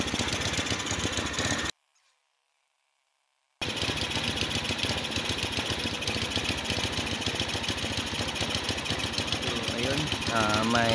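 An Easy Ride 150 motorcycle with an auto choke fault and no steady idle runs close by, its engine drone rising and falling under a person talking, with a brief drop to silence early on.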